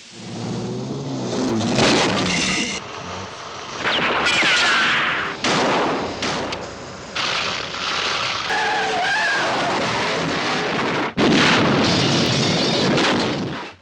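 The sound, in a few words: explosion in a film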